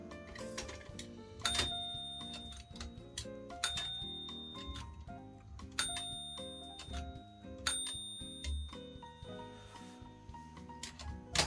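A Marathon 102TR manual typewriter's small bell rings several times among a steady run of key strikes and carriage clatter, with bright, slightly dull dings recurring every couple of seconds, close and without talk.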